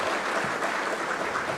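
Applause from a live audience at the close of a spiritism discussion talk, a steady dense wash of clapping filling the whole short stretch at moderate level with no voices.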